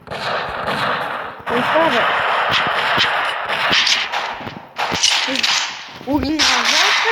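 Gunshots in the video game Counter-Strike crack repeatedly at a near, loud level amid steady game noise, while someone talks over them.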